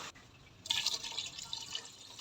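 About a liter of water is poured into a cooking pot holding crushed ginger, garlic and blended tomato for mutton paya. A hiss of splashing liquid starts partway through and carries on steadily up close, with no talking.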